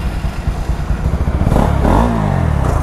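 A Bajaj Pulsar NS200 motorcycle pulls away close by, its engine climbing in a loud, rising rev that then holds at a steady throttle.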